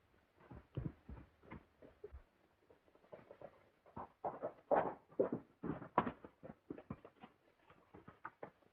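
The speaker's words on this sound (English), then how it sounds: "Someone who rides El Maghrib's horse is approaching." A horse's hooves approaching on the ground in an old film scene, a quiet rhythmic clopping that grows a little louder and busier as it nears.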